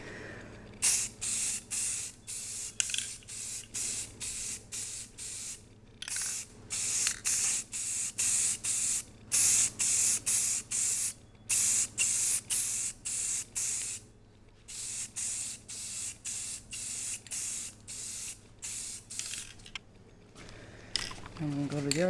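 A Rust-Oleum Sunrise Red spray can is applied to a cracked motorcycle rear fender in many short hissing bursts separated by brief pauses, close and steady throughout with no talking.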